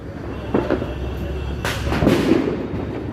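Sharp Diwali firecracker bangs burst out at intervals, a few near and loud, with a rumbling background of more distant explosions.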